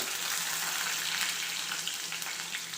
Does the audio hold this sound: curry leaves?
yes